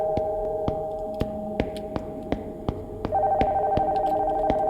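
A telephone rings steadily in an abandoned house in a horror game, its repeated ring bursts spaced evenly, loud and close, over a faint low hum with no voices.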